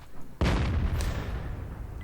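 One heavy boom of a tank cannon firing in World of Tanks, sharp and loud, then a long rumbling decay that slowly fades.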